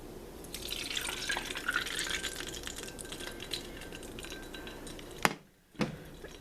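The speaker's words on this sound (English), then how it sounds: "I'm going to pour this fat into a little bowl." Cooking fat poured from a skillet into a small bowl trickles and drips steadily for several seconds, ending in a couple of sharp clinks of pan against bowl, with no talking.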